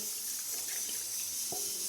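Water pours into chicken gravy in a pan, a soft steady hiss of running liquid with a faint splash midway, quiet and close.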